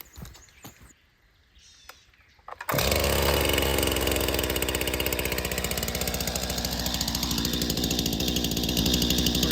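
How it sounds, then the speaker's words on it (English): After a few quiet clicks and pulls, a chainsaw engine fires up and settles into a loud, steady idle close by, running continuously. "so I'm gonna fire the chainsaw up"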